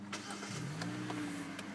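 A 2011 Hyundai Elantra 1.8-liter engine starts up: a short starter whir quickly catches into a steady low idle, close and moderately loud.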